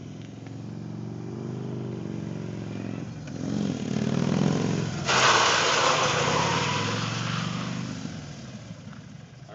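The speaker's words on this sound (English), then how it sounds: "I'm going to have Richard turn the ABS off and come back through the gravel again" Harley-Davidson motorcycle engine rumbles nearby, then a louder surge of rough, crunching noise as the bike brakes through gravel with ABS switched off, fading back to a steadier engine drone.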